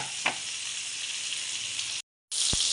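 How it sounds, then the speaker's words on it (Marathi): Mullet fish fries in a pan, making a steady, close hiss of sizzling oil. A soft pop comes early, then a brief silent gap, and the sizzle returns with a sharp crackle. "एक साईड ना चांगली एकदम फ्राय होऊ द्यायची"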